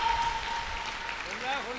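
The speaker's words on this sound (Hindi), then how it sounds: "आप लोगों को तालियां बजानी ही होगी।" Poetry-recital audience applauding steadily, a broad wash of claps held at an even level throughout with a faint voice underneath.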